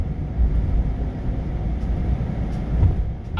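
A train passing close by near a Ford truck plant, a steady loud low rumble of rail cars rolling past with faint clanks, no talk.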